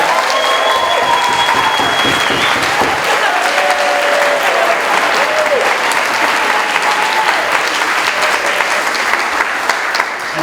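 Dense, steady round of applause from an audience at a film festival awards ceremony, with scattered whoops and whistles riding over the continuous clapping.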